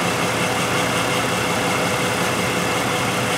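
A 2005 Jeep Liberty 3.7L engine idles with a multiple-cylinder misfire from shorted ignition coils, giving a steady, loud, continuous rumble with no talking over it.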